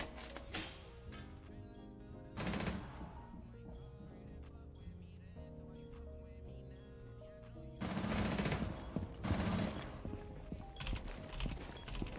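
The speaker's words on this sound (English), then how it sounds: "what do they do to Jackal's recoil? That shit kinda like kicking now, bro" Automatic gunfire from Jackal's gun in Rainbow Six Siege, heard as several loud, rattling bursts with quieter in-game background between them.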